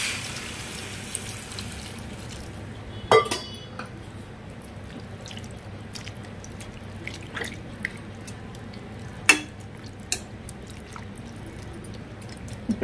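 Water is poured into a pan of frying puri curry, giving a steady wash of liquid sound punctuated by a few sharp splashes and drips, close and alone.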